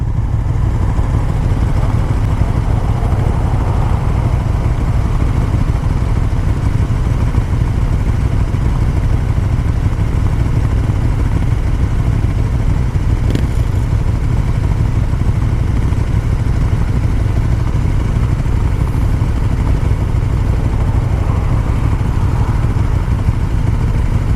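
KTM 1290 Super Duke R motorcycle engine idling steadily at close range, a continuous low throbbing rumble with faint mechanical clatter, unchanging throughout.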